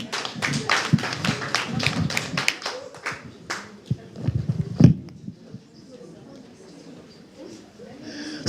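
A small audience at a library association launch event claps in short bursts between spoken remarks, the applause fading out into quiet room noise.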